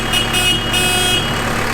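A newly fitted horn on a tractor blares steadily at close range, its tone wavering slightly for under two seconds with no talking.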